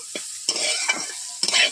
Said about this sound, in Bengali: এইভাবে আমি বিনস ভেজে ফেলাম